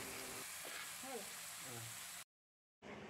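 Tomato and turmeric frying in oil for an Assamese fish curry, a steady close sizzle with occasional stirring scrapes, a voice speaking briefly underneath, then a short silence before the sizzle returns.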